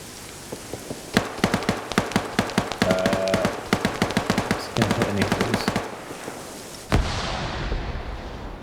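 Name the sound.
autocannon fire from a BTR-80 in a video game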